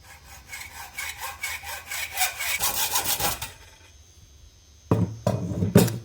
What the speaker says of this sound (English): I'm going to start my sawing. I've got a hacksaw here.